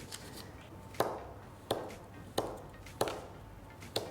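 A knife slicing through a roll of shortbread dough coated in demerara sugar, five crisp, evenly spaced thuds on a board, close and clear with quiet rustling between.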